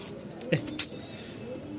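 Pakistani toy Lahori pigeons, including a female, give two brief soft coos about a third of a second apart against a quiet room background.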